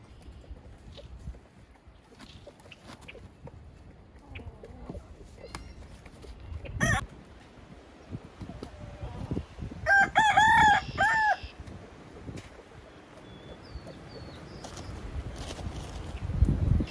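A rooster crows twice outdoors in a garden, once briefly and then a longer, louder call, over soft clucking hens and quiet ambient outdoor noise.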